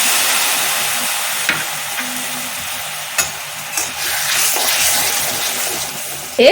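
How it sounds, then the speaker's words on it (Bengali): Mustard and poppy seed paste poured into a pan of Bengali fish curry, a loud steady sizzle broken by several sharp spoon-and-pan clinks and bubbling bursts, swelling again at the very end. "সর্ষে পোস্ত বাটাটা আমি পুরোটা ঢেলে দিই।"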